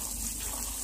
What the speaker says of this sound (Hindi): तो थोड़ी गाड़ी भी धो लेता हूँ